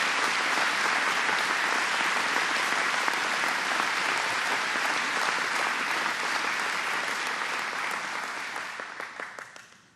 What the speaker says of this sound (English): Please give another very, very well-deserved round of applause to Governor Hochul.